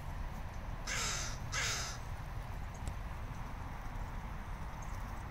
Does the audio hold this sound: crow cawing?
yes